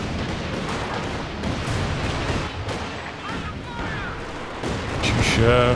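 ZiS gun artillery barrage in Company of Heroes 2: repeated booming shell impacts and gunfire crackle layered over a busy battle soundscape, with a voice commenting throughout.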